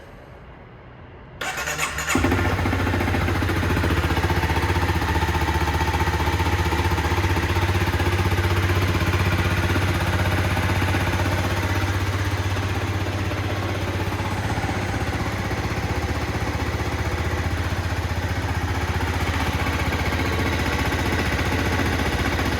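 A 2011 Honda motorcycle engine cranks and catches, then settles into a steady, loud idle that rumbles on without interruption.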